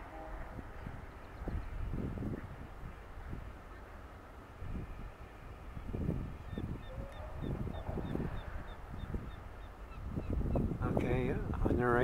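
Ducks at the east end of a sandbar on a bay, with honking calls rising in scattered bursts over wind and a low rumble, fairly distant, mixed with some talking.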